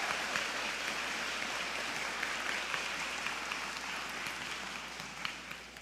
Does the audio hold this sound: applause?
yes